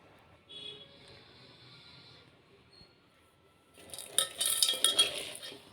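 Cut bitter gourd pieces are tossed with turmeric and salt, heard as a faint quiet stretch, then a burst of close rustling and clattering as the pieces are mixed by hand in a bowl.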